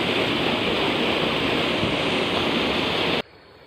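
A shallow jungle waterfall roars in a steady, loud, broadband rush that cuts off abruptly near the end, with no voices.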